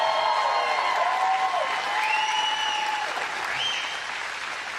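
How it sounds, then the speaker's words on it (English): An audience applauds at a CrossFit Open 16.1 announcement event, steady crowd clapping sitting beneath a sustained tonal hum that wavers in pitch, slowly fading toward the end. "One more round of applause, guys, for the Khalipa family"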